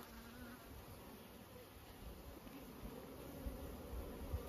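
Honey bees buzz in and around open hives during spring hive inspection, a faint, steady, continuous drone with a few soft knocks near the end.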